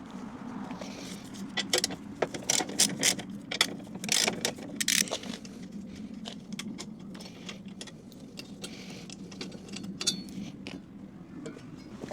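A wrench works the top bolts off a strut brace on an NB2 Mazda Miata, giving a cluster of quick metallic ratchet clicks and clinks, then quieter intermittent ticks.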